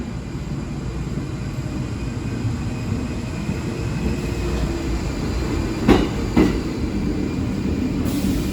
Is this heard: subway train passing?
yes